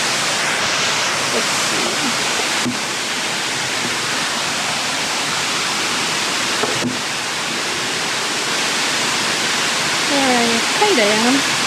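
The waterfall at Cafe Pokpo beside Hongjecheon Stream in Seoul makes a loud, steady rushing roar throughout, with a person speaking briefly over it and faint bird chirps near the end.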